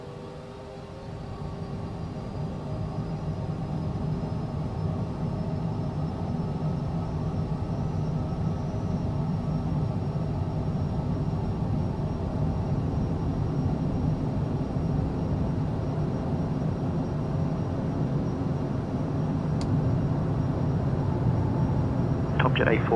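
Small plane on approach to runway 23, a steady drone of engine and wind noise holding level throughout under radio chatter and cockpit voices.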